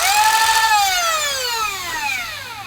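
Nerf Lepus MK2 blaster flywheels spinning up to a high whine, then winding down with a steadily falling pitch over a couple of seconds, close and fairly clear with a faint clatter underneath.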